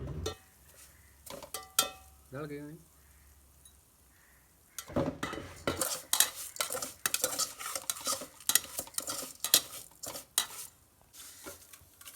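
Cut vermicelli is roasted and stirred in a pan, first with a few scattered metallic clinks and then a dense run of scraping, rattling spoon strokes against the metal pan, close and fairly loud, with no voices.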